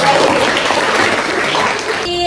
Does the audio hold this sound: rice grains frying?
no